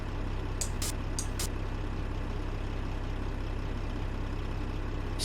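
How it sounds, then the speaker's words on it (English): Truck air suspension purge in American Truck Simulator: a steady idling diesel engine drone runs throughout, broken by a few short hissing bursts of released air, with no talk. "see how you can hear the air purge when I hit the switch?"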